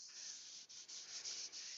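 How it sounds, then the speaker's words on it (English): A Webrax pad with wax rubs steadily over a yew wood bowl, a close, even hiss of sanding with slight rhythmic dips as the pad moves back and forth, with no talking. "but Stephen, but I use wood wax 22 or the waxes with a Webrax pad"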